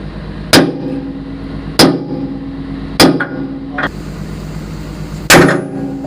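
Metal hammer blows ring out while a bucket is fitted onto a Komatsu excavator, four sharp, loud clanging strikes spaced a second or more apart, each followed by a brief ringing decay over steady background noise.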